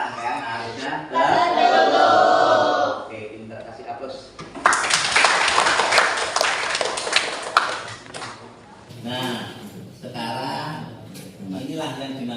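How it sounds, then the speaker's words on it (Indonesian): Students in a classroom break into applause, a dense burst of clapping lasting about three seconds, set between stretches of a teacher talking. "Oke, pintar, kasih aplaus."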